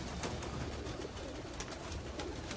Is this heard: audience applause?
no